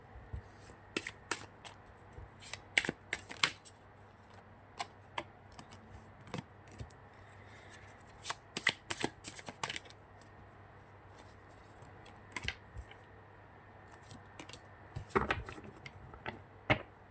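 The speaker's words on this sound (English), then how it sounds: "I'll be shuffling out the cards here first, starting with the tarot." Tarot cards are shuffled by hand in quiet, irregular bursts of soft riffling and papery clicks, close to the listener, with short pauses between handfuls.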